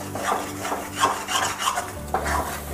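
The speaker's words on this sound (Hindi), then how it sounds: "हम इसको धीमी आंच में चलाते हुए भूनेंगे ताकि हमारा अच्छे से भून जाए।" Harira mixture roasting and stirred over a low flame, rhythmic rasping scrapes of a spoon across the pan bottom, repeated steady strokes up close, no talking.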